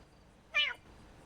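A single short cat meow, fairly close and clear, rising out of a quiet room background with low fan-like hum.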